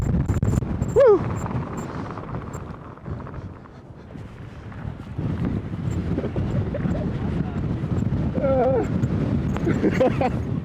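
Strong gusty wind at a volcanic crater rim in Iceland buffets the microphone with a low roar, and voices shout faintly through it now and then.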